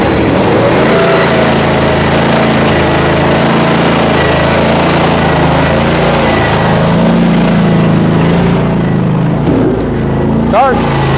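Small engine on lawn care equipment left five months without fuel stabilizer starts and runs loud and close, a steady buzzing drone that holds throughout before easing slightly near the end.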